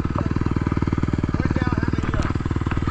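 A 250 dirt bike engine runs steadily close by, its fast, even exhaust pulses thumping in a continuous rhythm throughout, with a bit of faint background noise over the top.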